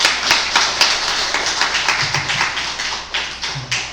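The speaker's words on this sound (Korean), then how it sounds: "박수 한번 칩시다" A church congregation claps in unison during a Sunday service, a loud, rhythmic series of sharp, evenly spaced claps close by that keeps a steady beat throughout.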